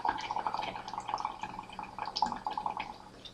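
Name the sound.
breathing out through a straw, bubbling into water in a beaker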